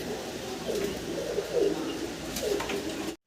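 Pigeons at a bird market coo softly in several overlapping low, throaty calls, moderately close, over a faint background murmur of the surroundings.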